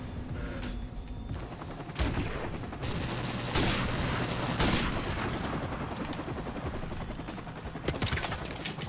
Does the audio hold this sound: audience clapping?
no